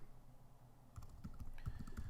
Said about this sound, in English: I just typed in one word